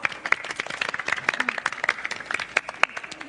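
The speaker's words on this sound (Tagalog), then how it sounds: "Pumalak pa kayo, palakpak!" An audience claps during a stage play performance, with distinct individual hand claps in an uneven rhythm, moderately near and lively, with no talk over them.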